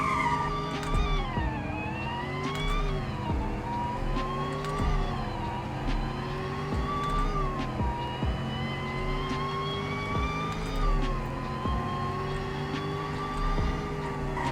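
A car in the Roblox game Greenville accelerates through a speed test, its engine whining steadily and rising through repeated gear shifts over several seconds, loud and alone with no talk.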